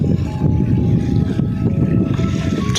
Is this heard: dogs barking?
no